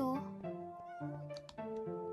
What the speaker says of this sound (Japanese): 猫ちゃんいっぱいいる